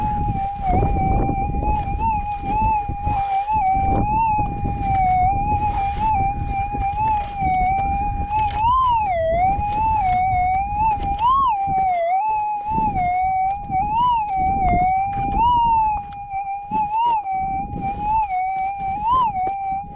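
A metal detector hunting for gold gives a steady, warbling electronic tone that wavers up and down in pitch, loud and close over faint scraping and ground noise.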